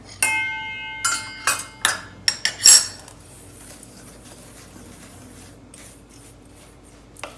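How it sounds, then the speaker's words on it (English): A utensil clinks and scrapes against a bowl while apple muffin batter is stirred, with a few sharp metallic taps in the first seconds and then quieter, soft mixing sounds. "Now we're going to mix this all together."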